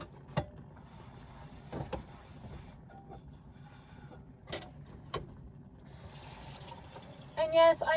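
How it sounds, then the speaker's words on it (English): A hot water tap trickles and runs into a sink while dishes are rinsed, a fairly quiet flow broken by a few sharp clinks and knocks of dishware. "I'm turning on the hot water to rinse my dishes"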